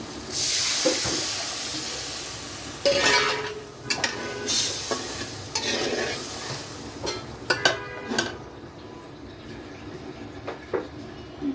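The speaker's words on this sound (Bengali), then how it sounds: "এখন একটু পানি দেবো" Water poured into a hot pan of sizzling turnip curry with shrimp and spices, bursting into a loud hiss of steam that then settles into bubbling and a few clinks of the pan, with no talking.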